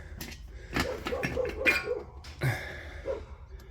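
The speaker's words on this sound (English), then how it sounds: "Don't mind my dog barking" A dog barks and whimpers nearby in a home garage during a V8 Hilux build, a few short moderate yelps and huffs spread over a few seconds, with no talk.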